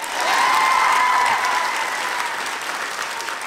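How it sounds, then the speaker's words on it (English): A comedy club audience breaks into applause, a dense wash of clapping that swells quickly, holds loud for a second or so, then thins out and tapers off. "I think that deserves a clap."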